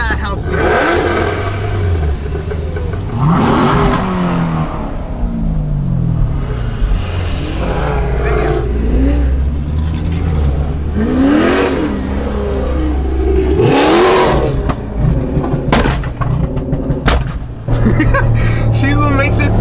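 Fast cars rev hard amid a chaotic Bay Area highway takeover rally, engines roaring and rising in bursts with two-step launch-control crackle, loud and close, with people talking and shouting over the din throughout.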